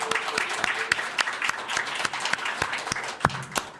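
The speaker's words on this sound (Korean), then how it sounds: "새로 젊음을 더해준 우리 김민지 자매하고 연우 형제님에게는 환영의 박수를 한번 같이" Church congregation claps in welcome for newcomers, a dense, steady patter of many hands with a few sharp louder claps near the front, continuing evenly throughout with faint voices underneath.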